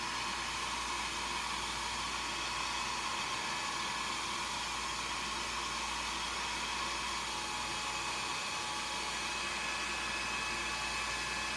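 A hair dryer blows continuously and loudly at close range to dry a moulded jewelry piece, giving a constant, unbroken rushing whoosh with no other sounds.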